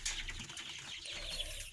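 Poultry birds on a farm calling continuously, dense overlapping coos and chatter close by, with no talk.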